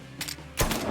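Gunfire in the Mafia 3 Definitive Edition video game: two sharp, loud shots close together, the second a heavier blast with a booming low end that rings on to the end.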